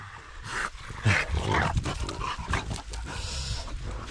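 A dog pants close by outdoors while mushroom picking in a forest, quick rhythmic breaths with small whimpering noises and rustling, and no talk over it.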